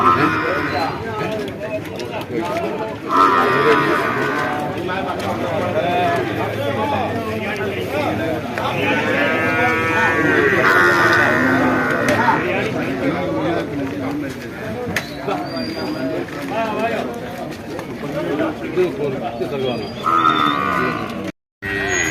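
Buffaloes low loudly now and then amid the steady chatter and bargaining of a crowd at the Kollannur livestock market, with people talking throughout.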